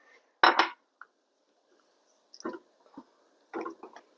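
Rice is added to a big soup pot in a few separate bursts, short close rattling pours and clinks with quiet gaps between them.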